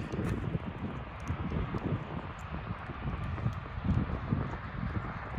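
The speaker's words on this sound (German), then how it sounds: "die Mauer ist hier ein bisschen windig" Gusty wind buffets the microphone beside an outdoor wall with a steady low rumble that swells and eases throughout, with no voices.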